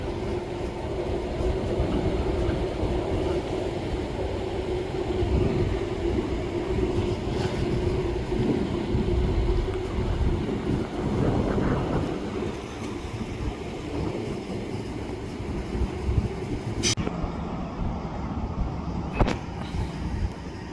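Freight train L543-81, led by a Dash 9 locomotive, rumbles steadily past on former Sioux Line track, a loud continuous low roar of rolling cars with wind noise, then a couple of sharp metallic clanks near the end.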